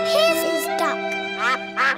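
A cartoon duck in an edited Peppa Pig episode gives several nasal quacks in quick bursts over a sustained musical backing, with a character's voice mixed in.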